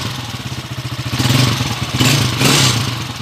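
A motorcycle engine idles smoothly right after its timing gear was replaced, with a steady close pulsing tone and a few light revs and clattery swells toward the end.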